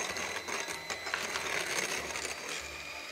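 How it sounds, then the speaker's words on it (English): Electric beaters whisk stiff egg whites as sugar is added, giving a steady, close, busy mechanical whirr with rattling texture that runs continuously without talk. "with the beaters running, you can start whisking in that sugar"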